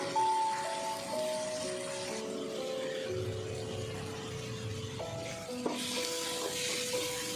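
Tomatoes with salt fry in a pan for an okra theeyal, giving a steady, close sizzle with light stirring that runs without a break, under sustained tonal background sounds and with no talk.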